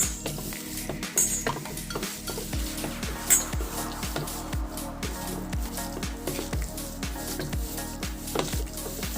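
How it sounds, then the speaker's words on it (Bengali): Chicken being mixed by hand with yogurt and spices in a bowl, with a steady rhythmic squelching and occasional clinks against the bowl, no talking. "এবার এটাকে আমি ভালো করে মিক্সড করে নেব ভালো করে মেখে"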